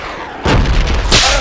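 A grenade bursts in the Project Reality military shooter on the Karbala map, a loud broadband blast hitting suddenly and rumbling on, followed by a second sharp explosion a moment later over constant battlefield noise.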